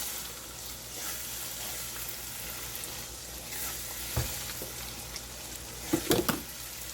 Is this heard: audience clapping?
no